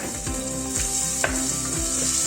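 Chopped onions frying in vegetable oil in a pot for vegetable bulgur pilaf, giving a steady close sizzle with a few soft stirring scrapes and no talk.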